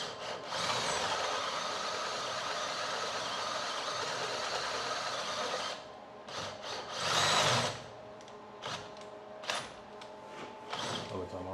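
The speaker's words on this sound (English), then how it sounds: "you do gotta drill this one a little bit bigger" A power drill widens a brake caliper hole from 12 mm to 14 mm while fitting Gen 2 CTS-V calipers to a Subaru STI. Steady, loud drilling runs for about six seconds, then breaks into short bursts and pauses.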